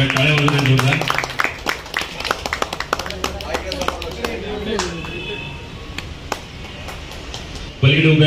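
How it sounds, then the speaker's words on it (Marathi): Crowd clapping at a Marathi felicitation ceremony for journalists, many hands forming a steady, dense patter that runs for several seconds between spoken announcements over a loudspeaker. "त्यांचं देखील आपण या ठिकाणी जोरदार टाळ्या वाजवून स्वागत करूया"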